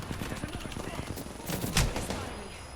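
Rapid gunfire exchange in the shooter Apex Legends, a quick run of sharp shots with one louder crack near the end, steady and close, under a player's voice.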